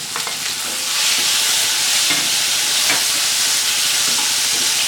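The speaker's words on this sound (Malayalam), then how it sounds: "തക്കാളി ചേർത്ത് വീണ്ടും ഒന്ന് നന്നായിട്ട് വഴറ്റി കൊടുക്കാം." Okra and tomato sauté in a pan for okra sambar, a steady broad sizzle with scattered clicks of a spoon stirring against the metal, close and fairly loud throughout.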